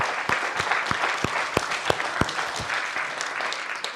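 A Sunday service congregation applauds for several seconds, with dense, even hand clapping and a few sharper claps standing out close by. No one speaks.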